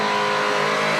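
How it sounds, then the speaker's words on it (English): A fire truck engine at a firefighters' drill competition revs hard and loud, a sustained, dense roar with a steady pitch that fills the short moment without a break. "That B truck is loud."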